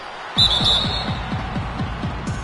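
A referee's whistle in an NBA 2K basketball game, one shrill blast near the start that trails off, over rhythmic sneaker squeaks and thuds from the court.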